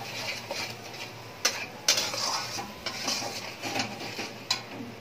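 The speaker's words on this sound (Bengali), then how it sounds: "এবার এই মশলাটাকে ভালো করে একটু কষিয়ে নিতে হবে" A spoon scrapes and clinks against a pot as spice masala of garlic, ginger and onion fries for mutton curry, several sharp metallic knocks over a soft, steady sizzle, close and without talk.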